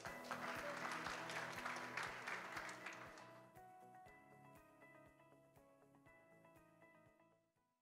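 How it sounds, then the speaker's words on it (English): An audience at a digital-economy leadership conference applauds to welcome a panel, a dense burst of clapping that thins into scattered claps and fades out over several seconds. "Could you welcome our panel with a round of applause, please?"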